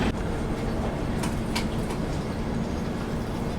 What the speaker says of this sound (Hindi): ये देखो ये निकला अपना WAP7 लोकोमोटिव